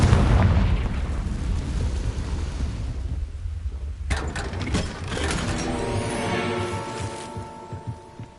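Confringo fire spell in the video game Hogwarts Legacy sets off a deep rumbling explosion that fades out, followed by crackling debris and scattered magical bursts and clatter.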